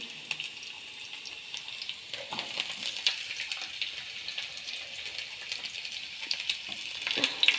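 Ginger, garlic and shallots fry in a pan, giving a steady close hiss with scattered small crackles throughout and no talking.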